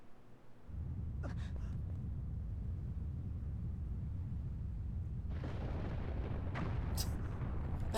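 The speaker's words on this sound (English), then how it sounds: "there was an explosion!" Explosion from a cannon in Hyrule Field in Zelda: Twilight Princess, a sudden deep boom swelling into a sustained loud rumbling roar with crackling bursts, no talk over it.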